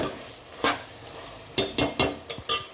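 Chicken curry with spices cooking in a pan, a soft sizzle under several sharp clinks and scrapes of a spoon stirring against the pan, irregular and close.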